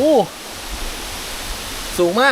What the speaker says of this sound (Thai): นี่ น้ำตกอยู่ตรงนี้